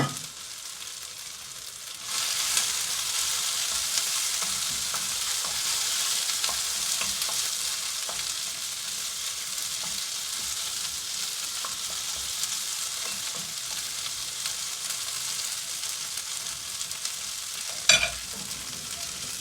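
Caponata of squash with olives, capers, pine nuts and raisins sizzles steadily in a hot pan, a loud continuous frying hiss that lasts throughout, with one sharp clink of a utensil near the end.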